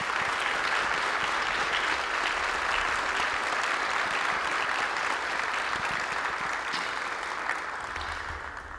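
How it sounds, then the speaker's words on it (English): Sustained applause from an audience at an NJROTC inspection at Middletown High School, steady and full for several seconds, tapering slightly at the end. "I want all of you right now to give a hand of applause to Chief Slingerland."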